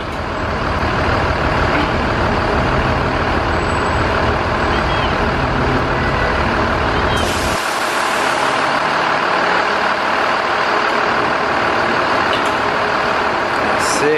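Bus being raised on a lift in a vehicle repair garage, a loud steady mechanical drone and hum, with a shift partway through as the low rumble cuts out, leaving a higher whine.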